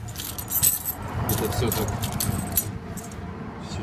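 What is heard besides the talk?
bunch of keys jangling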